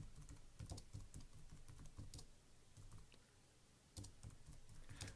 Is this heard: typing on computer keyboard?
yes